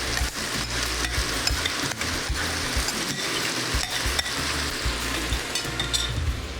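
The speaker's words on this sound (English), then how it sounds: "Into my Brussels sprouts is going to go my mix of bacon, vinegar, and maple." Brussels sprouts sizzle loudly in a hot pan as a mix of bacon, vinegar and maple goes in and gets stirred, with continuous frying hiss and scraping, clinking utensil sounds throughout.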